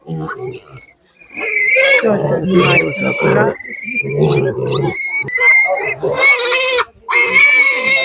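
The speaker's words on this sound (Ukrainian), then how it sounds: "Такі вже більш підрощені поросятки." Young pigs squeal loudly and repeatedly in close, shrill bursts at an outdoor livestock market in Otyniia, with people talking nearby between the cries.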